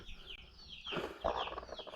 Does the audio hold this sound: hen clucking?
yes